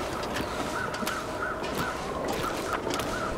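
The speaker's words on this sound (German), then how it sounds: "Es sind keine Krähen mehr da, nur der Sound davon." Crows cawing in the survival video game The Long Dark, a series of short harsh caws repeating at irregular intervals over a steady windy wilderness background, fairly distant and alone without talk.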